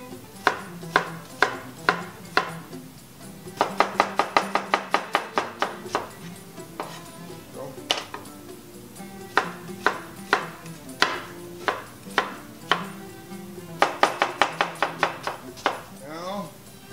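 Vegetables for zaalouk are diced with a knife on a board in rapid bursts of crisp, close chops, with short pauses between runs.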